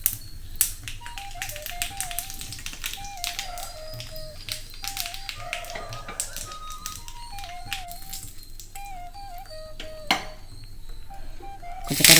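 Mustard seeds and urad dal splutter in hot oil for a tempering, popping in a dense, irregular patter of close, sharp little cracks that runs the whole time.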